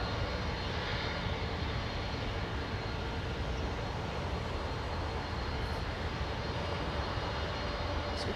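An aircraft at London Heathrow Airport gives a continuous broad engine roar, loud and steady from start to finish with no breaks.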